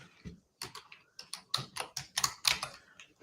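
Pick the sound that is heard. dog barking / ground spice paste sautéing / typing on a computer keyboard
typing on a computer keyboard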